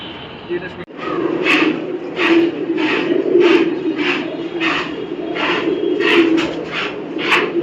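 Pigeons coo in a repeated, soft rhythmic burble at close range, a pair of birds offered for sale. Someone talks over the cooing throughout.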